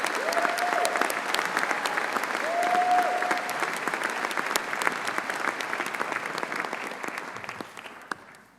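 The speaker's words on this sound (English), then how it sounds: "Please join me in giving them a warm round of applause." An audience at a Birmingham City University graduation ceremony applauds musicians with steady, dense clapping that fades out toward the end.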